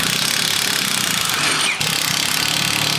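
A loud pneumatic impact tool rattles steadily while removing U-bolts from a truck's leaf-spring axle, a harsh continuous hammering with a short pause near the middle, close by and without talk.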